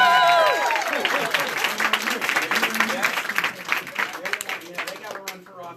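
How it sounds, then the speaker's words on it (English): A political rally crowd breaks into loud, dense applause that gradually thins and fades over a few seconds, with some voices mixed in. "Give them a round of applause."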